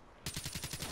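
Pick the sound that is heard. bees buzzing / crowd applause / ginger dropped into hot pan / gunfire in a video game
gunfire in a video game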